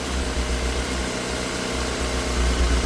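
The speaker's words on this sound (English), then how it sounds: "at least it's running on all 4 cylinders" A Yamaha YZF R6/R1 four-cylinder motorcycle engine runs steadily with a low, even rumble and no talking, holding a constant pace throughout.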